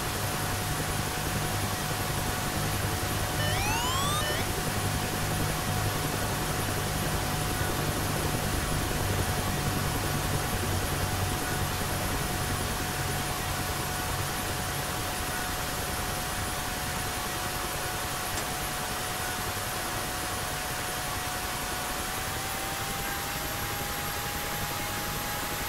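Steady broadband rotor and turbine drone of a UH-1 Huey helicopter in the DCS flight simulator, continuous and fairly loud throughout with a constant engine whine and no talk.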